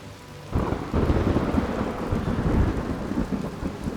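A thunderclap during a rainstorm in Fallout 76, a sudden loud crack that rolls into a deep, sustained rumble over steady rain on surfaces.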